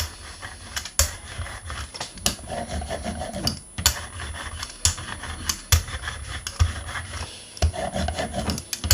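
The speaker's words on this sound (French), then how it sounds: "je prélève de l'encre avec mon rouleau" An ink roller rasps back and forth over a sticky ink pad in repeated strokes, with sharp taps and clicks between passes, close up.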